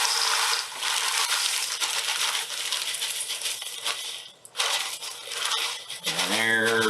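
Dry cereal pours into a bowl sitting on a kitchen digital scale, a continuous crinkly rattle of flakes lasting several seconds, then a brief break and a final short pour before a clatter and a faint voice at the end.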